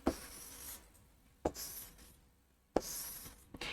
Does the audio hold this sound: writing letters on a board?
yes